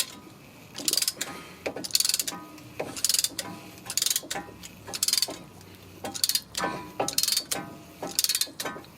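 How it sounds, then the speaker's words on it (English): Brake caliper piston on a 2012 Dodge Caravan being forced back with a ratcheting compressor tool, giving about nine sharp, evenly spaced clicking bursts roughly once per second, close and clear with no talk. "let's just compress the brake piston"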